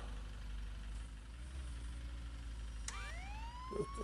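Police siren in the Contraband Police game, a rising wail that sweeps in late over a steady low vehicle engine idle, fairly faint and distant, with no talk.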